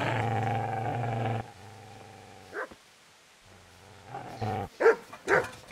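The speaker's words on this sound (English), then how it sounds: "Get away, you mutt!" A dog in Kingdom Come: Deliverance gives a low sustained growl, then short sharp barks and snarls in a cluster near the end, close and fairly loud.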